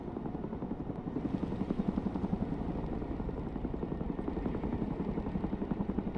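Steady rotor chop of a Chinook helicopter in the game Broken Arrow, a dense, continuous low thudding throb that stays loud and even throughout, with no voices.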